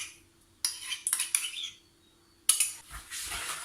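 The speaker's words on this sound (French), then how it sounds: "je vais fouetter pendant au moins 1 à 2 minutes" A whisk clinks and scrapes against a bowl while chocolate cake batter with melted cream cheese is beaten, in quick bursts of bright metallic rattling separated by short pauses.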